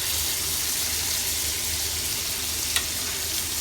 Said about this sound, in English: I've got the other 2 steaks going in this pan over here